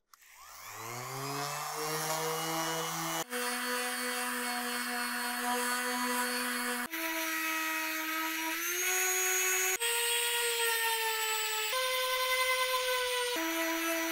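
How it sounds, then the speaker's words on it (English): An aluminium effects pedal enclosure is sanded with 100 grit sandpaper on a powered tool, which gives a steady, loud, close motor whine whose pitch steps up and down several times as the load changes. "We're going to start with 100 grit sandpaper. We're just going to dig into it a little bit."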